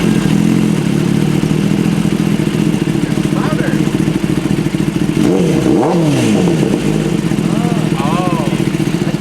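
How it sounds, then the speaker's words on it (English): A 2023 Kawasaki ZX10-R motorcycle engine runs loud and close, with a steady engine drone throughout and sharp revs rising and falling partway through, while people talk over it. "Give it a rev, Nick."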